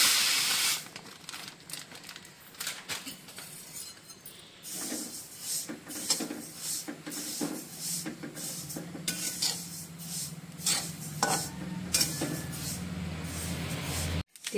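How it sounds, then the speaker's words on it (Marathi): Sesame seeds dry-roast in a hot kadhai for a Maharashtrian masala chutney, giving a close, continuous dry rustle, scraping stir and soft hiss as the seeds are moved around the pan. "कढई गरम झाली, आता मी तीळ भाजून घेते"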